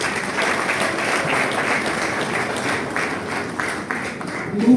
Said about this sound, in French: Est-ce qu'on ne peut pas applaudir ces mots?